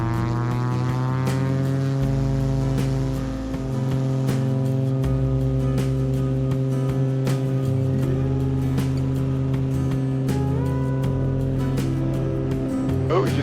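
Small single-engine airplane at full power during a soft-field takeoff, a loud steady propeller drone with strong harmonic hum that holds throughout, slight pitch shifts, heard from inside the cockpit.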